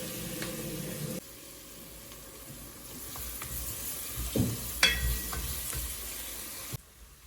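Beef pilau with pilau spice sizzles in a pan as a spoon stirs it, a close, steady frying hiss with scraping and a few sharp clinks of the utensil, with no talk.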